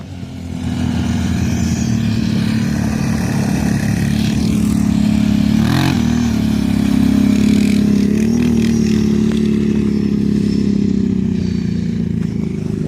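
Engine of a Raptor quad ATV revving hard and steady, a loud, close, sustained drone that rises and falls slightly as it rides, with no talk over it.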